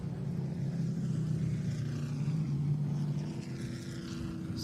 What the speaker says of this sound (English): As the field continues to circle the racetrack, it's going to get interesting with these Pro Trucks